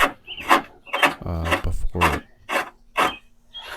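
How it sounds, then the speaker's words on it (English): Bolts being threaded by hand into the rear subframe of a 2007-2017 Jeep Patriot or Compass, giving a series of close, rhythmic rasping and scraping bursts about every half second. "here we're putting in the 4 main subframe bolts, getting them started"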